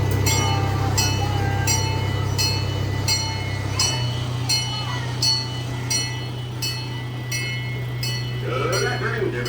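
The original Holidog Express theme park train runs with a low steady rumble and rhythmic metallic clicking of wheels on rail, while a person talks over it.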